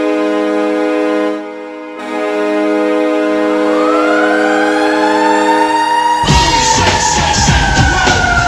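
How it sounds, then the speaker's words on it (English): A Rockford IceHogs hockey arena goal celebration blares with a loud, sustained multi-tone horn, then a wailing siren rises and sweeps over it as the arena crowd roars beneath, all very loud and close. "just because of also the way the horn sounds along with the siren"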